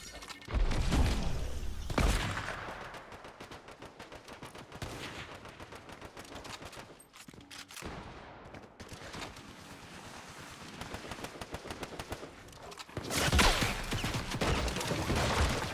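Hunting rifle gunshots in a video game crack out in loud bursts near the start and end, with a rumbling, windy bed of game sound between them.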